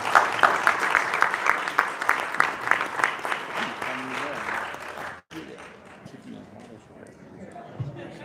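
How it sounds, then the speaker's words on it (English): An audience claps at a post-fight boxing press conference, a brisk burst of many hands for about five seconds before cutting off abruptly, followed by quieter room sound and faint talk. "Round of applause for Michaela May."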